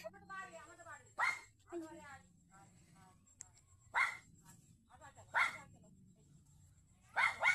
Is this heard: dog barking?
yes